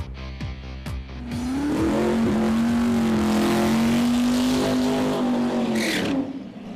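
Chris Isaacs' Pro Mod drag car in a British Drag Racing Championship qualifying run: a few sharp engine blips, then a loud sustained full-throttle roar that holds steady for several seconds before cutting off.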